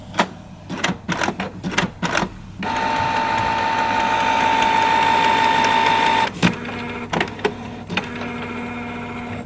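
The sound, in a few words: inkjet printer starting up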